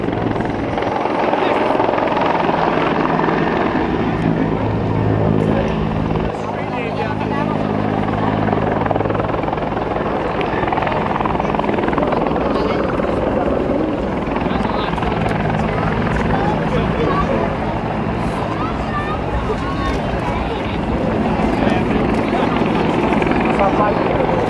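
A CH-146 Griffon helicopter hovers and flies backwards down a runway at an airshow, its rotor throbbing loud and steady throughout, with wind buffeting and a voice talking over it.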